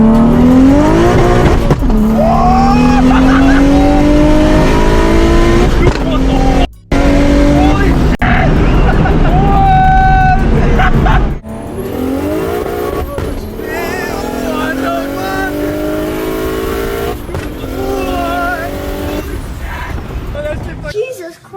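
Modified BMW fitted with an on 3 kit and making about 691 wheel horsepower, its engine revving hard and accelerating in loud, rising sweeps that continue for the whole stretch, with a brief cut near the middle.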